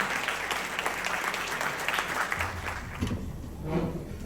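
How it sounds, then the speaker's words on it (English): Warm, sustained applause from a seated crowd at a 2024 Democratic Party gala dinner in Richmond County, clapping steadily before tapering off near the end. "So let's give Laura Sword a round of applause."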